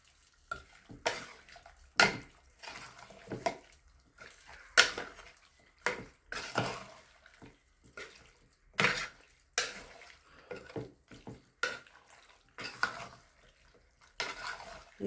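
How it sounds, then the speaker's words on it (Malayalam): Beef curry being stirred with spice paste in a pot, giving a steady series of close scraping and clinking strokes of a spoon against the metal, about one each second. "ഇനി നമ്മൾ അരപ്പ് നല്ലപോലെ ഇളക്കി"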